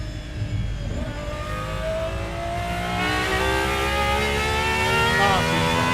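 A Gordon Murray GMA T.50s V12 revs hard under throttle, its loud, rising engine note climbing steadily and close as the car accelerates, with a voice speaking faintly at moments.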